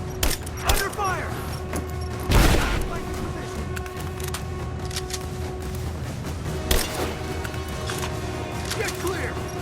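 Gunfire in Rise of the Tomb Raider, with several heavy shots and bursts booming out over a busy combat soundscape, spaced across the scene with sharper cracks between them.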